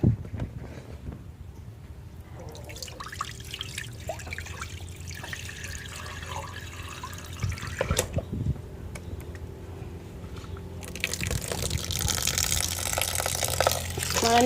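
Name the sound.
washing and soaking glutinous rice in water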